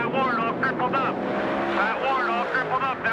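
Race cars in the 2001 Eckerd 200 roar past in a continuous engine drone that rises and falls, with a commentator talking over the noise.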